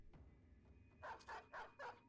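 A war dog in the Battle Brothers video game barks four times in quick succession, the barks distinct and fairly close, with faint low background sound before them.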